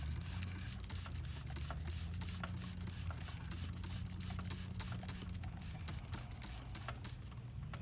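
WD-40 sprayed onto a spinning Honda C125 Super Cub drive chain, a steady close hiss of aerosol over a continuous whirring, clicking rattle of the rotating chain and sprockets, with no talking.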